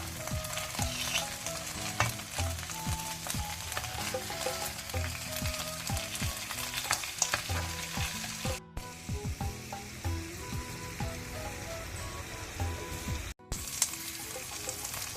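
Sardine masala fry, Mangalorean coastal style, sizzling steadily in a pan for the whole stretch, with clinks and scrapes of a utensil stirring close by and two brief dropouts, no talk.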